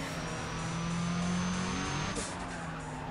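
A Nissan S13 drives in NFS ProStreet, its engine droning steadily up close while the tires squeal and skid throughout.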